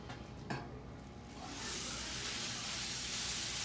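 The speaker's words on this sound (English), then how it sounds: "Here's the chorizo. Let's get that cooking." Chorizo sizzles on a grill for a Tijuana taco cook. A steady, loud frying hiss swells after a brief clatter and then holds close and continuous to the end, with no talk.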